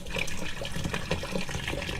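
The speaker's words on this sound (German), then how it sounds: "Und dann mit Wasser auffüllen." Water pours steadily into a drinks cooler in a football team's dressing room at a Champions League match, a continuous splashing fill running close and fairly loud throughout.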